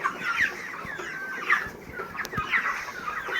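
Chickens cluck in repeated bursts on a poultry farm where a flock recovering from Ranikhet disease has thinned to about three hundred birds, the calls close and overlapping with scattered pecks and thumps beneath.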